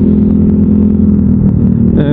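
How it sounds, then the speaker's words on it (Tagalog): A loud Yamaha Aerox V2 scooter engine with an aftermarket exhaust pipe idling and revving close by, a dense, rumbling drone that rises sharply near the end. "malakas tong motor ni tropa,"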